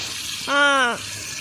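Water pours from a tap in a steady, hissing stream throughout, with a short voiced tone rising above it midway.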